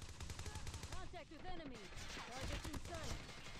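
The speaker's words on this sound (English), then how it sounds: "Especially just because of the way that this legendary PP19 sounds" A legendary PP19 submachine gun firing in a video game, rapid steady bursts of automatic shots with a voice talking over them throughout, fairly quiet in the mix.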